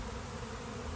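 A honeybee swarm buzzes in a backyard, a dense, continuous drone of many bees, fairly loud and close with no pauses.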